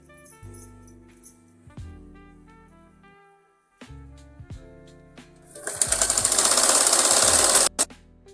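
A sewing machine stitches a fitting seam, starting with scattered clicks and short mechanical knocks, then breaking into a loud, fast, steady whirring run before stopping abruptly.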